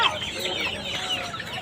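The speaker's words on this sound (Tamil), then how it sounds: "நாட்டுக்கோழி" A native country chicken clucks at a busy Friday market, a short run of close clucks over faint crowd murmur.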